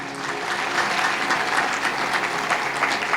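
A congregation at a Punjabi church sermon claps loudly and steadily for about three seconds, a dense, sustained roar of many hands that fills the room with no voice rising above it.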